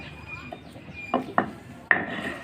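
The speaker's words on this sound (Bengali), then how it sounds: "এখন পাটার মধ্যে আস্তে আস্তে করে সবগুলো উপকরণ বেটে নেব" Chopped onions crushed on a stone grinding slab (pata) with a stone roller, a few distinct scraping knocks spaced irregularly, close and fairly quiet over a soft background.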